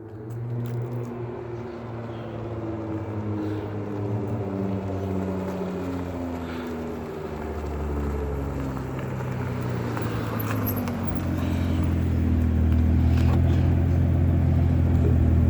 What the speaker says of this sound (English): I can actually hear his car coming up.